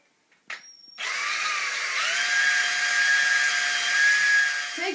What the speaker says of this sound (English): So drill hole same size as the cable.